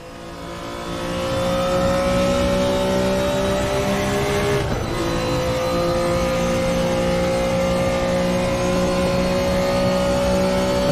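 Race car engine in the Raceroom sim racing game, a loud steady drone with sustained harmonic pitch that holds level, dipping briefly mid-way as revs shift, then continuing alone.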